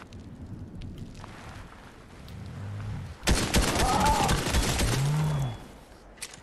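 Gunfire from a battle-royale style video game, a burst of shots cracking out in a dense, loud cluster mid-clip over a low rumbling background, with no speech during it.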